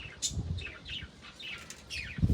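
Pigeons, including a young one, fly overhead with bursts of flapping wings, mixed with scattered high chirps and tweets, fairly close and uneven, with a louder flurry of flaps at the end.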